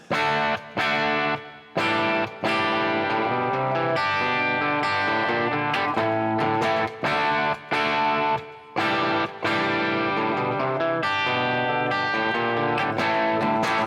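Electric guitar riff played with the guitar's volume turned down, slightly distorted chords with short gaps between phrases, clean-ish and rhythmic, no voices.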